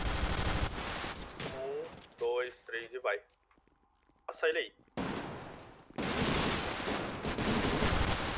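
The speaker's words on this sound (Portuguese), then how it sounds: "eu vou trocar tiro" Sharp bursts of gunfire from a shootout in a multiplayer video game come in clusters, loud and close, while players talk over the action between volleys.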